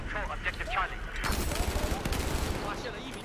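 Gunfire in the tactical shooter Squad: a dense burst of rapid shots from about the midpoint onward, loud and continuous, following a stretch of voice chatter.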